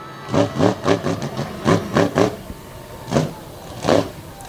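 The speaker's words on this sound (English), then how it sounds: "Hear the low thump of that 557 cubic inch metal shop engine" A big 557 cubic inch monster truck engine revs in repeated throaty bursts at a monster truck event, with a cluster of quick pulses followed by two slower, spaced revs, loud and close.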